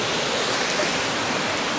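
A river at the Mae Hae Royal Project in northern Thailand rushes steadily, a loud broadband wash of flowing water with no breaks and no voices.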